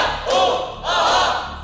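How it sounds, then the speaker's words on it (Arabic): A crowd of Menoufia University supporters cheers at a student quiz competition between Menoufia and Port Said universities, two loud surging swells of shouting voices in quick succession. "تشجيع قوي جدا من جامعة المنوفية ومباراة صعبة جدا"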